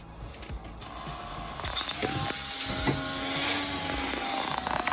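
Whining electric motor of a cordless screwdriver driving screws while a baby crib is assembled, a continuous high whir that rises and holds close by, with no talk over it.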